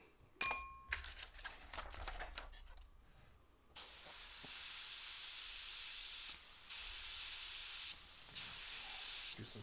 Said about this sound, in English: Just moving the shield, the template as I spray.